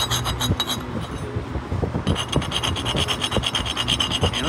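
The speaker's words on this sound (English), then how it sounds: "And let's try the scrape test." A laser-cleaned steel sample, treated with a 2000 W continuous-wave laser cleaner, is scraped in a scrape test, producing close, repeated rasping and scratching strokes in a steady rhythm.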